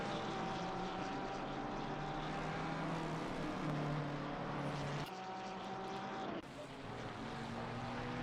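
GT Ferrari race cars lapping Imola in a console racing game endurance event, engine drone sustained and loud throughout with a steady whining tone, one car's note dropping away as it passes.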